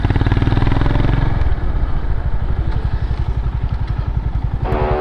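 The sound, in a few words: Royal Enfield Himalayan 450 motorcycle engine idling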